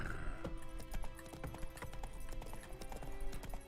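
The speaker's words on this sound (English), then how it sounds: "let's get back on Roach here. Come on, Roach." Horse hooves clip-clop steadily in Witcher 3 as the rider mounts up on a forest trail near a village, a close, regular rhythm with a brief whinny-like tone at the start.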